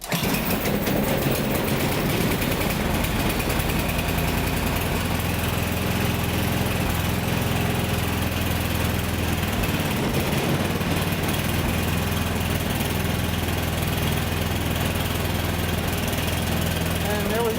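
A snowblower's small engine runs steadily throughout at a constant rumbling drone, loud and close, with a voice talking over it.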